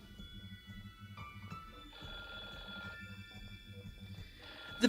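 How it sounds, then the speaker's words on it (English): A big, black, antique-looking telephone on a counter rings in repeated bell bursts with a steady rhythm, moderately loud over a faint background hum. "The big, black, and somewhat antique-looking telephone on the counter was ringing."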